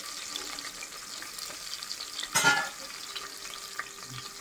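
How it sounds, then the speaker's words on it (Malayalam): Ginger and garlic sizzle and fry in hot oil in a pan, a steady crackling hiss with a brief louder burst of stirring midway, no talking. "ഇഞ്ചിയും വെളുത്തുള്ളിയും കൂടെ നമുക്ക് ഇട്ട് കൊടുക്കാം"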